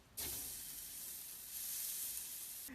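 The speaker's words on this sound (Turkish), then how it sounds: "marine ettiğimiz etler homojen bir kıvama geldi. Şimdi bunları mangala ekliyorum." Marinated meat hits a charcoal barbecue grill and bursts into a loud, steady sizzle that starts abruptly and holds evenly throughout, close up with no voices.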